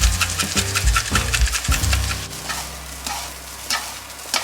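Chicken fried rice is stirred in a pan after soy sauce and garlic powder go in, with repeated scraping strokes over a steady sizzle, close and fairly loud, no talking.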